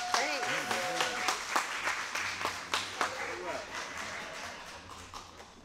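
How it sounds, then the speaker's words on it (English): Applause breaks out for a contest winner at an RV campground gathering in Myrtle Beach, clapping mixed with voices and chatter, moderately loud and fading toward the end. "Let's give her a round of applause."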